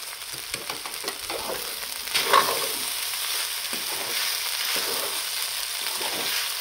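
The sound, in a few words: sautéing sabudana khichdi with potato, chilli and peanut powder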